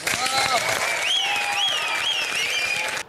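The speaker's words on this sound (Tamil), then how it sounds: "ஆடியன்ஸ் சைடுலயும் அவ்வளவு கிளாப்ஸ் வந்து கொடுத்தாங்க" A studio audience on the Tamil reality show Bigg Boss Season 8 applauds loudly and steadily for about three seconds, with bright musical tones and gliding notes sweeping over the clapping.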